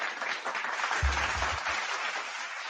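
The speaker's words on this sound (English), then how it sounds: "Let's give the young lady a round of applause." Steady applause, dense and continuous at moderate loudness, with a brief low thump near the middle and no talking.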